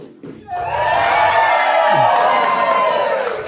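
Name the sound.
live studio audience cheering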